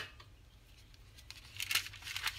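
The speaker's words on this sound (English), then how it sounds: "Bigger scissors." Quiet rustling and crinkling of paper, then several crisp snips toward the end, like scissors cutting through a sheet close by.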